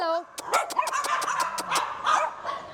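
Dogs at a Soi Dog Foundation shelter in Phuket, Thailand bark in a rapid series of sharp yips and woofs, close and loud, with a whimpering tone mixed in and a person's voice under the barking.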